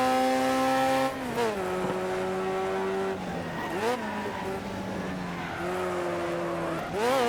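A race car in Next Car Game revs and whines through shifting engine pitches as its tires squeal in several drawn-out skids, loud and close.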